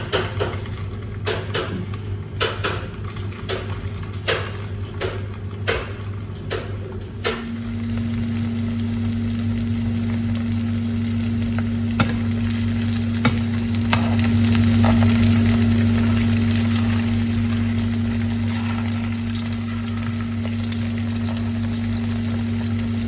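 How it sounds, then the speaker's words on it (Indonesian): Pieces of pempek lenjer fish cake deep fry in hot oil. A few sharp clicks come first, then a loud, steady, dense sizzle and crackle carries on alone to the end. "Setelah minyaknya panas, kita masukin pempek yang kita potong-potongnya."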